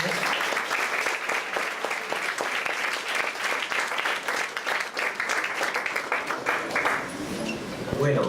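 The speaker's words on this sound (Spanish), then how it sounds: "Un aplauso para él." Sustained audience applause at a university technology conference, dense steady clapping from a large room that carries on for the whole stretch without letting up.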